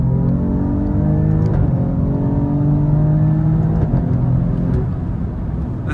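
A 2024 Alfa Romeo Giulia Quadrifoglio pulls hard in second gear, its engine note climbing steadily in a loud, continuous rising drone with harmonics sweeping upward, heard close from inside the cabin with no talking.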